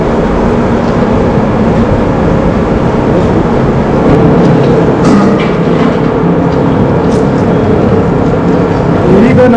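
A wooden oil press crushing groundnuts for oil in Gadag gives a loud, steady mechanical grinding rumble that runs without a break throughout.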